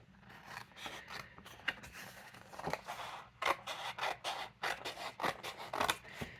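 Scissors cut a piece out of stiff paper or card for a mixed media embossing-powder project, heard as a close series of irregular snipping and rasping strokes.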